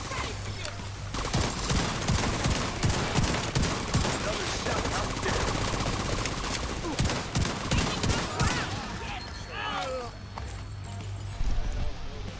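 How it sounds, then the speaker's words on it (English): Shotgun gunfire in a game, a dense run of sharp blasts and impacts filling most of the stretch amid busy combat noise, loud and close, with a brief lull near the end before more shots. "I feel like I'm using my shotgun more often"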